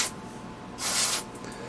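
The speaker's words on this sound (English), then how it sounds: "I'll go ahead and spray these down." Contact cleaner sprays onto corroded, dirty contacts in the socket of an FT-101 radio, a short faint hiss at the start and a louder half-second burst in the middle, with quiet room tone between.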